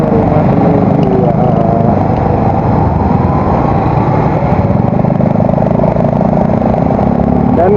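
A motorcycle with an aftermarket exhaust rumbles loudly and steadily up close, a continuous engine drone that neither breaks nor changes much, with no voices.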